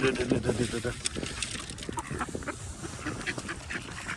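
Ducks quack noisily and chaotically at close range during hand feeding, with splashing and rustling mixed in and a voice speaking over the flock.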